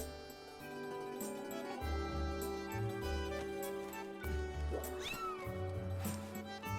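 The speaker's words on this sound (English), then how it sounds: "Kitty!" In-game cat meowing in The Legend of Zelda: Skyward Sword, a few short mews rising over steady orchestral game music, with a player's voice faintly underneath.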